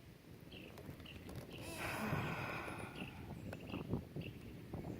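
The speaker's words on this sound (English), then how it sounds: "All the wind is coming right for us." Steady wind gusts across the water on a pedal boat ride, a continuous broadband rush that swells louder in the middle and holds under light splashing and creaks.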